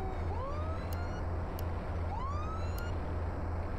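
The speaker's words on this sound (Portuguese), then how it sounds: "Eu não consigo nem desligar a sirene." An ambulance siren in the emergency-services video game Flashing Lights wails in rising and falling sweeps over a steady low engine drone, close and continuous, with a few sharp clicks.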